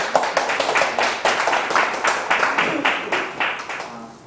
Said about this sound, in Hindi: थोड़ी सी तालियां बजा दीजिए, मुझे इनकी आवाज़ अच्छी लगती है